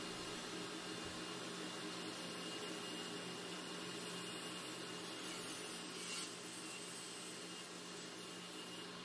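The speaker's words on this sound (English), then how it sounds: "That brand new blade though did go through these pieces of plywood like a hot knife through butter." A 70-year-old DeWalt radial arm saw fitted with a brand-new blade runs through plywood with a continuous, even motor whine and cutting noise. It holds steady at a moderate distance for about nine seconds, with no talking.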